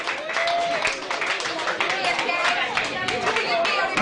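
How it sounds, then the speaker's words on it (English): An audience applauds a group of dancing girls, steady, dense clapping from a crowd, fairly loud and close, mixed with some chatter and cheering throughout. "Give Dance a big round of applause for the girls."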